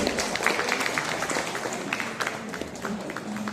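Crowd applause at a kayaking challenge ceremony, moderate, steady clapping from an audience, with a voice briefly heard under it.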